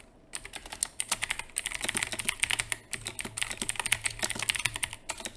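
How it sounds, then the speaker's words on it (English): Rapid, steady typing on a computer keyboard, quiet and close, with a brief pause partway through and no talking. "I'm just typing something out real quick."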